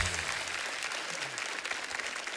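Studio audience applauding guests on a Hindi TV comedy show, a dense, steady wash of clapping close up with a brief voice underneath.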